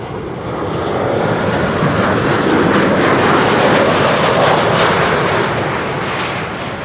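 An airliner lands at a busy airport, its engines giving a loud, sustained roar that swells in the middle and slowly eases toward the end, with no voices.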